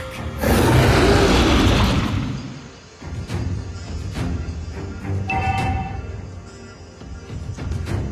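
A game turret blowing up: a loud, close booming blast that rolls on for about two seconds, then fades into scattered thuds and lighter impacts.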